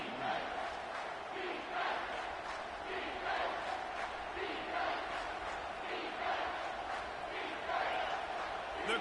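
Stadium crowd roaring steadily through the red zone of a college football video game, Oregon against Georgia, a dense continuous cheer held at a constant level with no pauses.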